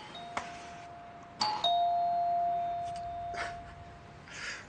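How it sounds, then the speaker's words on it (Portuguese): Apartment doorbell ringing indoors, a bright electronic chime with a sustained ding-dong tone and a second ring following, fairly close and alone. "Aperta a campainha"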